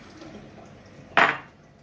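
Soaked cashews are drained in a kitchen, a single short splash and clatter of liquid and nuts against a bowl or strainer after a quiet moment, close and fairly loud.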